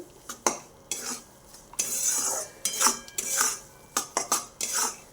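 Moong dal roasts in a pan for halwa while a spoon scrapes and stirs it in irregular bursts of scratchy strokes, with short quiet gaps between them.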